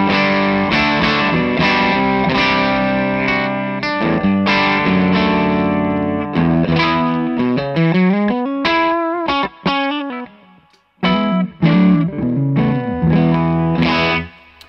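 An electric guitar plays through a Broadcast pedal with a crunchy, driven tone: strummed chords give way to a rising single-note run and a few sharp chord stabs after brief gaps, loud and close with no speech.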